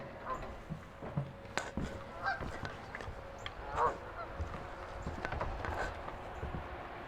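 Scattered Canada goose honks at a distance on a lake over low outdoor ambience, with occasional splashing and faint clicks.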